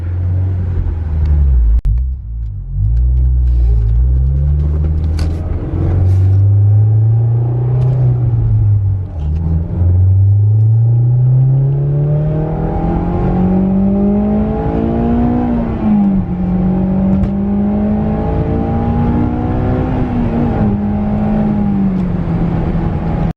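Honda S2000 sports car on a drive home, engine droning loud and close with repeated rises and dips as it accelerates and shifts, alongside steady road rumble.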